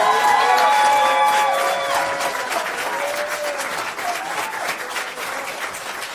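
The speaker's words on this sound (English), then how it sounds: "Clap your hands for Mayor Brandon Johnson." A crowd at a Chicago public event applauds loudly and steadily for the city's mayor, dense clapping with some cheering that eases slightly but keeps going throughout.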